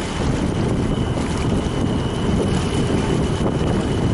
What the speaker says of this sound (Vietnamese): Chỗ quá gió rồi.